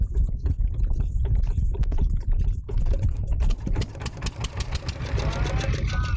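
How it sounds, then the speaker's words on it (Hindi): A small boat's engine, dark inside, cranks and rumbles into a rough idle, with a steady low chugging close by and voices talking over it. "ये इसका कश्ती का इंजन है जी।"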